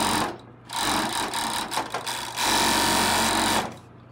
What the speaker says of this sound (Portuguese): passar uma costura